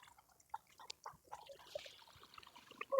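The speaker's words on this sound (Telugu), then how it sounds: "ఇప్పుడు నీళ్ళు పోసేస్తా." Water poured from a large jug onto newly planted trees makes a faint, uneven trickle and splash nearby, quiet throughout.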